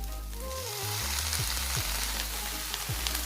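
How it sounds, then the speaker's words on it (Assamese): Onions and tomatoes sizzling in a pan for butter chicken, a dense continuous frying hiss with occasional scrapes and stirring knocks, loud and close. "পিঁয়াজখিনি কিছু সময় ফ্ৰাই কৰাৰ পিছত এতিয়া আমি বিলাহীখিনি দি দিম।"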